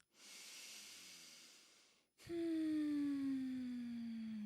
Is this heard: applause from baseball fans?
no